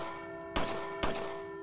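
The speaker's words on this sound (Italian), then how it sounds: "Posso suonare la campana?" A bell in the video game Resident Evil 4 gives two sharp, loud clangs about half a second apart over a steady background drone, with no talking.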